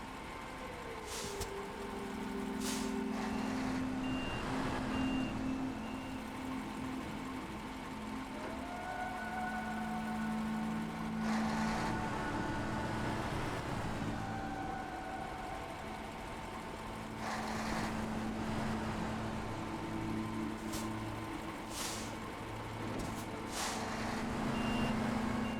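Truck reversing beeps in the video game SnowRunner, a steady repeating alarm over a continuous engine drone and rumble as a heavy truck backs up with a trailer, loud and close throughout.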